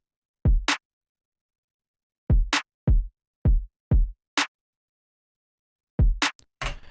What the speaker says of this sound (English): So the kick and clap on their own sound like this.